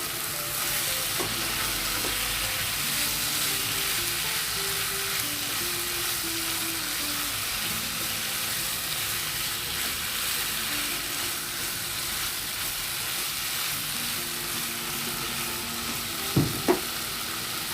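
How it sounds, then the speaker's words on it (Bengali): Spice masala sautéed with chopped potato and a little carrot in a pan for singara filling, steady loud frying sizzle with soft stirring throughout and a couple of sharp utensil knocks near the end. "এখন আমি এই মশলাটাকে ভালোভাবে কষিয়ে নিব।"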